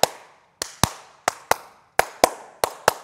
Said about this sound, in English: we're gonna see if it turns on from me clapping